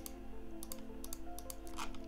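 Computer keyboard keys pressed in a few scattered clicks during work in a template editor, quiet and close under a steady electrical hum.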